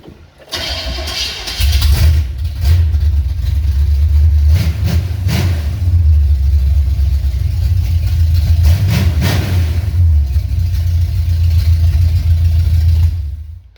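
A car engine in a shop cranks briefly, catches and then runs steadily at a loud, close idle for the rest of the clip, with a low rumble throughout and no talking.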